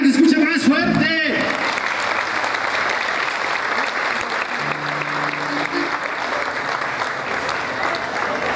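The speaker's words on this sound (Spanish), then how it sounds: "El aplauso de Tehuacán se escucha más fuerte." A concert audience in Tehuacán applauds loudly and continuously during a saxophone and orchestra show, a dense wash of clapping that follows a brief voice at the start.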